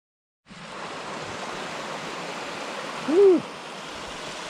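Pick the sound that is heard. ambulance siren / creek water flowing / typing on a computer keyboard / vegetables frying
creek water flowing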